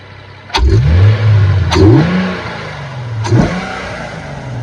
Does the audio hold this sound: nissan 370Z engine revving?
yes